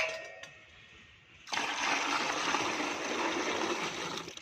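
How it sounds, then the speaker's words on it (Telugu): Water pours in a steady, close rushing stream into a fruit and vegetable compost mixture, beginning abruptly after a quiet pause and continuing. "ఇప్పుడు దీంట్లో నీళ్ళు కలిపేసుకోవడం"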